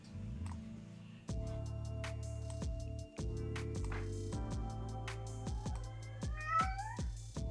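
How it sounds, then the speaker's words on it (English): A pet cat meows indoors, a few short rising meows near the end over steady tonal background sound. "Great, now you can hear my cat."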